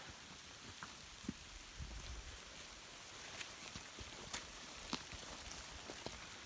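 Hail striking rain ponchos on hikers walking a boggy mountain ridge in spring, a faint, scattered patter of irregular ticks and taps over soft wind, no voices.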